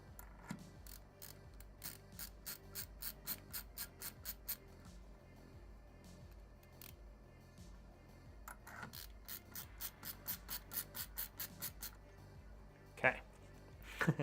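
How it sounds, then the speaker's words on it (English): Screws are driven by hand with a ratcheting screwdriver while a gaming PC is assembled, quick bursts of rapid even clicks repeating several times, close and quiet, with soft handling noises between runs. "And now we start screwing."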